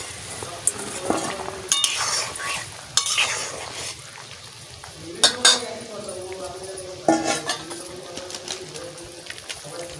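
Fried singhi fish pieces go into a bottle gourd curry in a pan, with a soft bubbling sizzle broken by sharp spoon-on-pan clatters and scrapes as the mixture is stirred.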